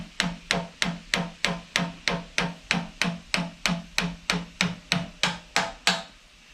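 A metal hammer with a small plastic handle taps a grab screw onto an air hammer part in a workshop, about twenty quick, even, close-up strikes in a steady rhythm before stopping.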